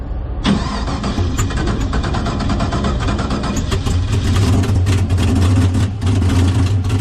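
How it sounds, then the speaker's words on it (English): Drag car at a radial racing event holding a loud, steady engine rev on two-step launch control, close up and sustained after a sharp start, with a low rumble growing heavier toward the end. "I'm going to do a little two-step here"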